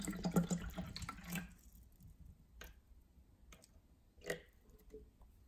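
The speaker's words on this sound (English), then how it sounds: "Let's pour some water in." Spring water poured from a bottle for a pH and TDS test, a short wet splash at the start followed by a few quieter drips and splashes, fairly faint and close.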